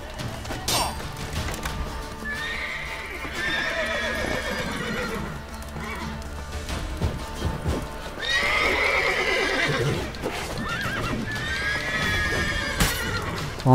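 Horse neighing and whinnying in The Witcher 3 video game, several loud rising calls over steady clip-clop hooves and busy game sounds, with someone talking at times.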